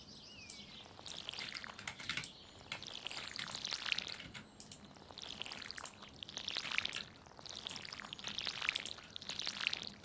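Watering crops with a watering can in the video game Stardew Valley on a rainy day, heard as repeated bright pouring splashes in waves alongside chirping birdsong and steady rain-like hiss.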